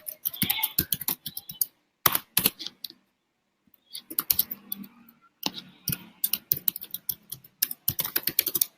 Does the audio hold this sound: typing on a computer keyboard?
yes